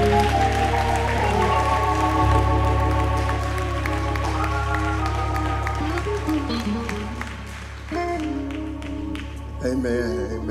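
A church congregation at a COGIC Men's Day service applauds after a testimony, steady clapping under sustained organ-like music, with a voice speaking over it.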